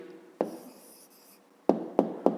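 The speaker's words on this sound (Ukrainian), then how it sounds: "Пишемо відповідь" Pen writing an answer by hand on paper, a soft scratch followed by a few sharp taps and strokes, quiet and close with no voice.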